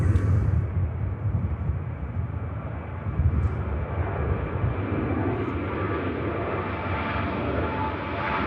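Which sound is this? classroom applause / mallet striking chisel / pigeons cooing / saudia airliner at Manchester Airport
saudia airliner at Manchester Airport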